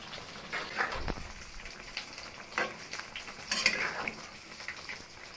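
Winter vegetables with lentil dumplings (dal bori), ginger paste, sugar and ghee are stirred in a pan, giving a soft sizzle with a few spoon scrapes and clinks against the metal.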